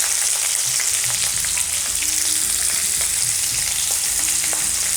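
Spices, onion and green chili fry in warm oil with a steady, close sizzle, and faint clicks of stirring come through. No voices are heard.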